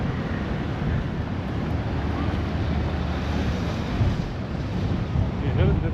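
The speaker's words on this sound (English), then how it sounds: "Too much crazy wind." Strong winter wind blows along the coast at Çanakkale, buffeting the microphone with a loud, steady low roar and gusts that swell toward the end.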